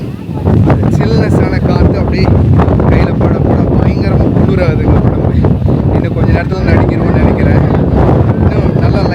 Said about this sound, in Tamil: ரொம்ப பயங்கரமாக காற்றடிக்கிட்டு இருக்கு